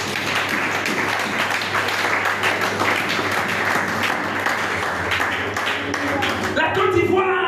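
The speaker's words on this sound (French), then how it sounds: "Acclamons notre Dieu ce matin." A church congregation claps and cheers in praise of God during a sermon by a prophet, steady, sustained applause filling the room, with voices calling out among the clapping.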